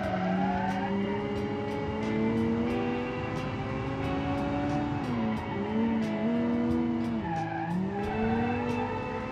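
Hatchback engine driving hard around a track, a steady sustained drone whose pitch rises and falls with gear changes, with tire squeal and faint clicking over the top throughout.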